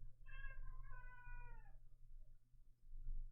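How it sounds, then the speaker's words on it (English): A cat gives a faint, drawn-out meow with a rising then falling pitch, quickly followed by a second, shorter overlapping cry. A steady low hum runs underneath, and the room is otherwise quiet. "Meow, meow."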